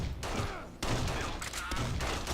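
A weapon fires in alternative fire mode in the shooter Exodus from the Earth, dense bursts of shots in rapid clusters with a sharp burst near the middle, loud and close.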